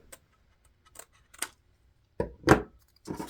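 Scissors snip notches into a small folded paper or fabric frame piece, a handful of short, close, separate cuts spaced irregularly, with a couple of louder snips near the end.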